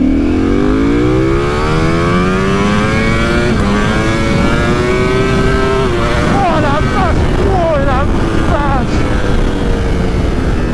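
Ducati V4R motorcycle pulling away in first gear, its engine note climbing steadily in pitch as it revs up, then a series of quick rising-and-falling rev blips near the end, loud and close throughout.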